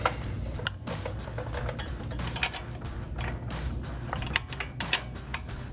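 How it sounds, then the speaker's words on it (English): A mechanic turns an 18mm wrench on the bottom swing arm bolt of a 2014-2016 Chevrolet Silverado 1500 while fitting upper control arms for a lift. Scattered metallic clicks and clinks sound close over a low steady hum, with no talking. "bolt on the bottom of the swing arm. And I'm going to be using an 18mm wrench to do that."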